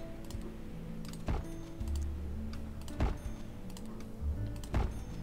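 Mouse clicks while playing SimCity 4: a few sharp, separate clicks spaced about a second or more apart over a low hum of game sound.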